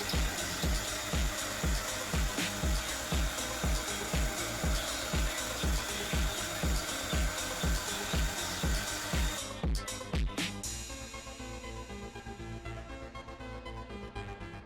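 A hammer drill fitted with a masonry bit bores into brick or concrete. It gives a loud, close, rapid pulsing hammer rhythm, then shifts into a rougher, steadier grind near the end. No voices.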